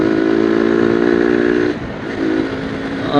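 A motorcycle given as a birthday gift runs steadily with a continuous engine drone, then the pitch dips briefly and the revs climb back up near the end. No one speaks.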